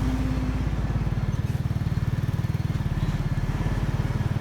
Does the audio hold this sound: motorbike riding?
yes